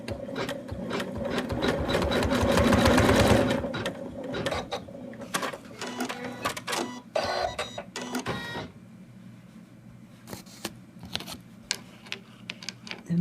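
An embroidery machine stitches the placement line for the left arm of an in-the-hoop Santa doll, a loud dense mechanical whirring for about four seconds, then quieter intermittent clicks and short bursts of needle movement.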